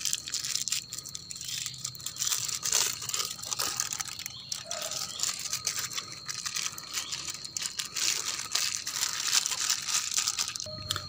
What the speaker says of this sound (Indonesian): diremas-remas seperti ini otomatis sudah hancur dia.